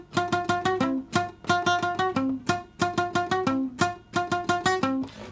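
Guitar in first position playing a hip hop riff, short plucked notes repeated in a tight, bouncy looping pattern, close and clean with no voices.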